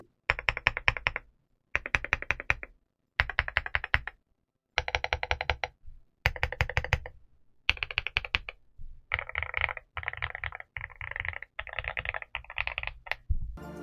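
Bursts of fast, deep-toned typing on a Yunzii C75 75% mechanical keyboard, close and steady, with short pauses between runs of keystrokes.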